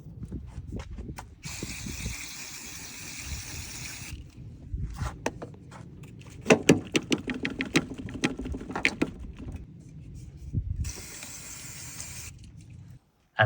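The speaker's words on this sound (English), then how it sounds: "I've got some electrical contact cleaner here, is I'm going to clean the block and the points on that side." Electrical contact cleaner hisses from a spray can onto a BMW E46 connector in two long bursts, with clicks and handling noises from the part in between.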